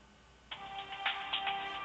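Telephone ringing on a recorded call to a company line, a close, clear electronic ring starting after a brief quiet pause and repeating in quick pulses.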